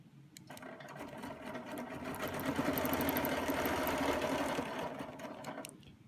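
A sewing machine stitches a circle on a quilt, a close, steady rapid whirring hum that builds and runs continuously for several seconds before stopping.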